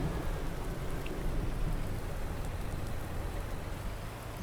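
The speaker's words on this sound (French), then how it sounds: "il commence vraiment à faire plus que pleuvoir" Steady heavy rain in the video game Farming Simulator 19 pours down in a continuous dense hiss with a low rumble underneath, no voices.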